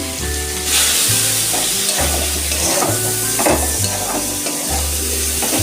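Prawns fry in oil with turmeric and salt, a loud close sizzle and crackle with occasional stirring scrapes, running steadily throughout, a low steady hum underneath.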